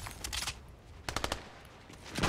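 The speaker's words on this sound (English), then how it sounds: "I'm gonna try him with the flintlock." Rapid bursts of flintlock gunfire from the video game Fortnite crackle in two quick clusters, moderately loud, with a faint thump near the end and no one talking.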